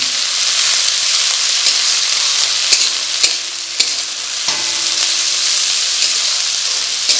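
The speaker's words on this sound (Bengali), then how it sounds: "তারপরে চাউমিনটা দিয়ে দেবো।" Chowmein noodles being stir-fried with vegetables in a pan, a steady bright sizzle with scraping stirs and occasional utensil knocks against the pan, close and continuous with no voices.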